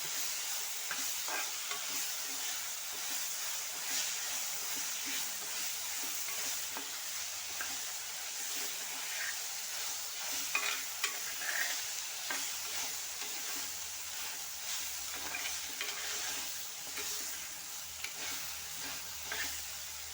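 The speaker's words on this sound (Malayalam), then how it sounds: "വീണ്ടും അടപ്പ് മാറ്റി ഇളക്കി കൊടുക്കാം" Ivy gourd and soya chunk curry sizzles steadily in a pan while being stirred, a continuous close frying hiss with light scraping strokes throughout and no talking.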